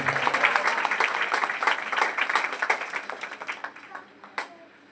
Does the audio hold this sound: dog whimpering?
no